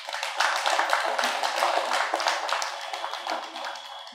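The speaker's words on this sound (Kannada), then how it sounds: "ಚಪ್ಪಾಳೆ ಮೂಲಕ." An indoor audience at a meditation gathering applauds, a dense, steady patter of many hands clapping at close range that swells early and then tapers off gradually.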